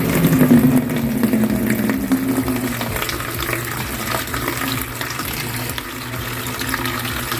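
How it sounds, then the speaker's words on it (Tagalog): Water runs steadily from a tap into a food container holding a rubber seal set to soak, a close, continuous splashing pour that gradually softens. "lalagyan natin ng tubig"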